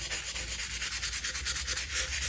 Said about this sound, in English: just going to sand those down with some wet or dry